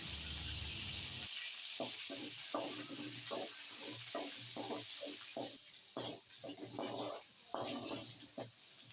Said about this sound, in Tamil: அதோட சின்ன வெங்காயம் சேர்த்து பொன்னிறமாக வர வரைக்கும் வதக்கிக்கலாம்